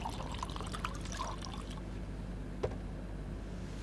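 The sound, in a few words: water being poured for a drink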